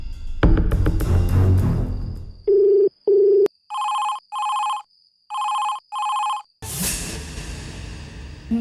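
A telephone rings during a call in a Kannada TV serial. After some background clatter come two tonal beeps, then four electronic ring bursts in pairs with gaps between, and louder noise follows.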